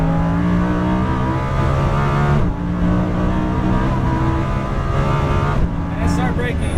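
Lamborghini Huracan on a racetrack at Exotics Racing in Las Vegas, its engine droning loud and steady as it builds speed, the pitch stepping up through a gear change, with an instructor talking over the engine noise.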